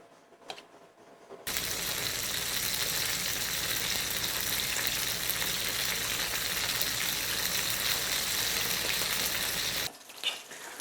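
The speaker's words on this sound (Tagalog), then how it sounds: "Pwede na nating iprito yung ating talong. Unahin natin yung skin, yung side na may skin." Eggplant (talong) laid skin side down into hot oil, an abrupt loud sizzle that holds steady for about eight seconds, close and unbroken, then cuts off into quieter handling.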